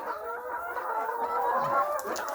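Chickens cluck in a coop where laying hens are kept on rice-husk bedding, a steady overlapping chorus of nearby clucks and murmurs with no talk.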